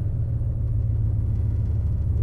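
Fifth-generation truck engine idling after being switched over, a steady low rumble holding even and close throughout with no voices.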